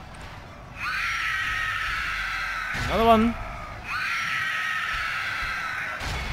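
Troll war screams in the Mordor campaign of Third Age Total War: two long, loud harmonic roaring shrieks, with a short burst of mixed battle cries between them and a voice speaking briefly.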